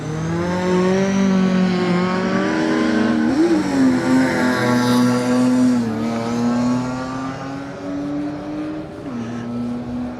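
Rally cars, including Mark II Ford Escorts and a BMW, race on a circuit rally stage at Donington. Engines roar loudly and continuously, their pitch rising and falling through gear changes and revs, with no voices.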